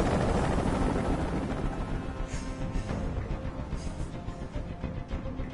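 Loud, continuous rotor noise from a helicopter hovering close overhead, a broad rumbling wash with a faint beating pulse that holds steady throughout.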